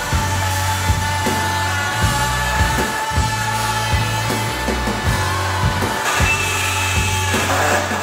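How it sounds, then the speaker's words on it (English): A Bosch Expert Multi Material ACZ 105 ET segment blade on an oscillating multi-tool cuts through a metal tray, giving a close, loud buzzing drone that pulses and dips in repeated strokes. "we're going to give the multi-tool a go with a new blade"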